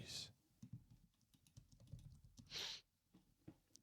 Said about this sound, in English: You see me typing.